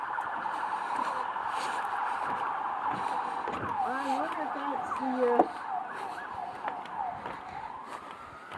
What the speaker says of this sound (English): Yeah, we got the horn. We got the sirens.